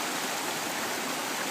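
Beaver Brook rushes steadily beside the trail on Mount Moosilauke, a close, even wash of flowing mountain water with no voices over it.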